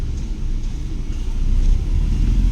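A learner car pulls away and gathers speed during a driving lesson, its engine a steady low rumble that swells slightly as it accelerates, with no talk over it.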